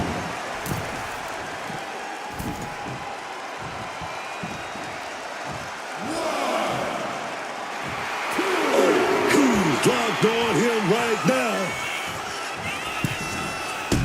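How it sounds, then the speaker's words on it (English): Arena crowd noise swells into cheering and whoops during a WWE 2K26 I Quit match between Triple H and Goldberg, under a commentator's voice, growing louder toward the end. "This packed crowd on their feet."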